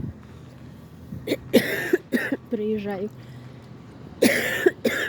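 A person coughs in several harsh bursts, close up, with a short spoken word and throat sounds between them.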